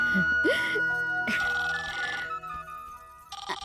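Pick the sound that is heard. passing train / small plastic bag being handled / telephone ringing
telephone ringing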